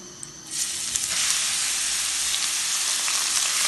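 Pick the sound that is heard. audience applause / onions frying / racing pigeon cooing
onions frying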